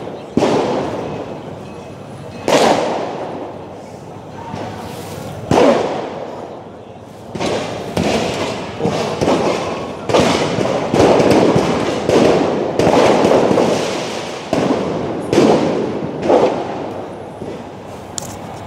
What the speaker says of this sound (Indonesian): Beberapa petasan dilempar ke Tameng Makobrimob